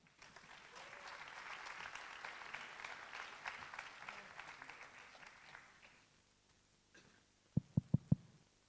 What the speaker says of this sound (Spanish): Le damos la bienvenida con un aplauso.